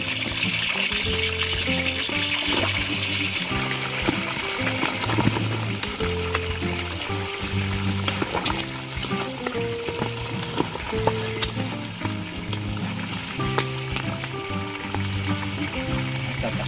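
Boneless pork for crispy sisig sizzles and crackles steadily in hot oil, a busy, continuous frying hiss with scattered pops and spatters throughout.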